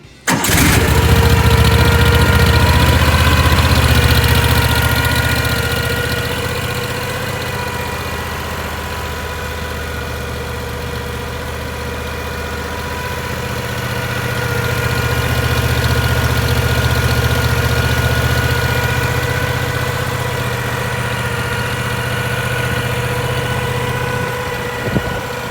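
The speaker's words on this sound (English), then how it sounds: "Fire up the engine." A Cushman Trackster tracked vehicle's engine cranks and fires, then settles into a loud, close, steady idle with a low droning rumble that swells slightly and eases back over a long stretch.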